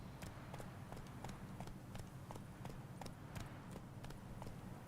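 Hooves of Roach, a horse in The Witcher 3, clop in a quick, regular galloping rhythm against low rumbling ambience, fairly faint and close.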